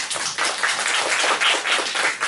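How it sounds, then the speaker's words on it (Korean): Brief, brisk audience applause at a talk event: close, evenly sustained hand clapping with no voices over it. "여러분 다시 한번 박수 부탁드립니다"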